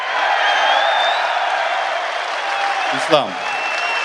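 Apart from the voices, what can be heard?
crowd cheering and applauding at UFC press conference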